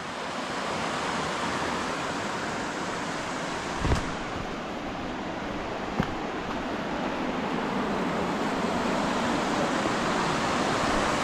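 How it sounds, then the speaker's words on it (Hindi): A pretty river near the village of Mawan in Uttarakhand rushes steadily, a continuous broadband roar like surf, with a couple of faint knocks and no voices. "काफ़ी प्यारी सी नदी है।"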